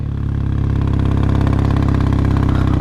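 A Praga ZS 800 single-cylinder motorcycle idles with a loud, close, steady low burble, its even pulsing thump continuing throughout.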